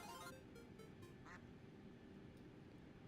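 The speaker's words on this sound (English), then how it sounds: "Is that a duck I just heard?" A duck gives a few faint quacks early on, brief and distant, over a steady low cabin hum.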